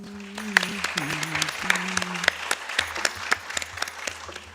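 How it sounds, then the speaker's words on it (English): Audience applause at a Bharatanatyam arangetram, a steady wash of many hands clapping through the whole stretch while a voice speaks over it. "Let's give these ladies another round of applause."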